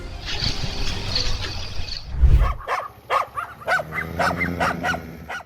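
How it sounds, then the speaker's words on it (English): Stray dogs bark at night in a rapid run of sharp yelps and barks, fairly close, following a stretch of noisy background; no voices. Santo Antonio da Platina, Paraná, Brazil. "heard stray dogs barking at night"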